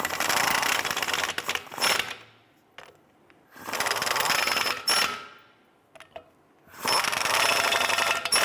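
Power tool snugging down bolts on a 2011-2018 Ram 1500 wheel hub assembly, three loud, sustained rattling impact-style bursts of about one to two seconds each, separated by short pauses.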